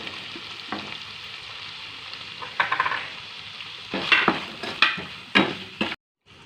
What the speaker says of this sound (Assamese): এতিয়া কাটি থোৱা বিলাহীখিনি দি দিম ইয়াত।